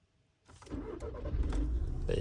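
A VW Golf Mk6 with a 1.6 TDI diesel engine starts up after a quiet moment, the starter catching quickly into a rough, steady idle rumble that stays close and moderately loud.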